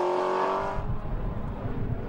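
A 1.6-litre four-cylinder Lotus Cortina engine screams loudly in a race, a high, strained tone dropping away after a moment into rougher, lower road and engine noise.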